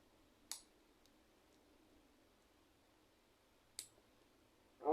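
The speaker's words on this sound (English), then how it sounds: "take that nail and cut it" Nail clippers cut a fingernail, two separate faint, crisp clicks a few seconds apart over a quiet low hum.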